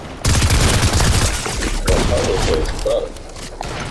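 Heavy gunfire in a Fortnite battle royale match, a dense loud volley at the start that breaks into scattered shots and thuds, with some talking partly mixed in.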